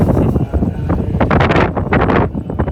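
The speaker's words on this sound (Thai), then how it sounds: "ลม เข้าตลอดเลยนะตอนนี้" Strong wind buffets a microphone outdoors at a pagoda, a loud, continuous roaring rumble with gusting surges throughout and no clear voices above it.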